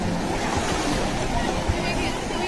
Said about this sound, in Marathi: ती बघ लाटा बघ